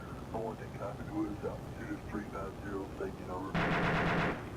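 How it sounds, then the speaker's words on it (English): An Apache helicopter fires in the Arma 2 video game, a loud rapid machine-gun burst arriving near the end after a stretch of a person talking. "I don't even know what he's shooting at"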